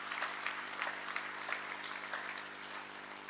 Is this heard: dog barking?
no